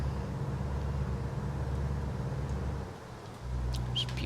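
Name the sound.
truck driving noises in video game American Truck Simulator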